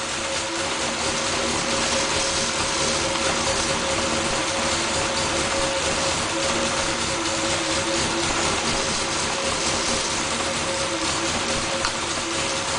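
A 1500cc MG Midget engine idles at about 800 RPM with a continuous mechanical clatter and hum, steady and close, running without a break.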